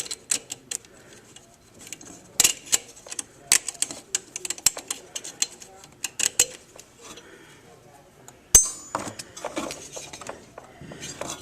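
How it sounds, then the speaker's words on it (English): Metal clicks and clatter as nuts come off and the cylinder head is pulled from a Keeway Matrix 70cc scooter engine, sharp intermittent ticks and taps with quieter handling noise between, close by. "remove the nuts from the head, and you just pull the head off"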